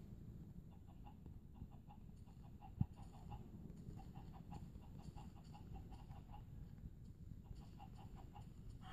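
Chickens cluck in short, repeated bursts at a steady pace, faint and somewhat distant over a low background hum, with no one speaking.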